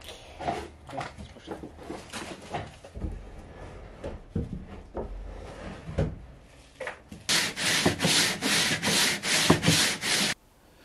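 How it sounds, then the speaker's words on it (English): Sandpaper rubs against wood in short strokes, then settles into a fast, even back-and-forth rhythm of loud scratchy passes near the microphone. "we've done our very basic preliminary sanding"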